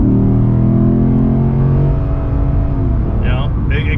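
A 2022 Lexus IS 500 accelerates hard on a highway, its engine note rising loud and close in a climbing roar, with voices breaking in briefly near the end.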